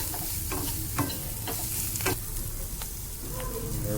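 Garlic frying in a pan with salt, for a prawn bharta, gives a steady close sizzle throughout, broken by repeated scraping stirs of a spatula at intervals, with no talking.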